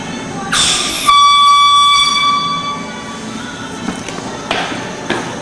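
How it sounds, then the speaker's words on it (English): An emergency alarm horn sounds loud and close, a sustained tonal blast lasting about half a second to a few seconds before trailing off, followed by a couple of short sharp knocks in a reverberant space. "Anytime you hear this sound, there's an emergency."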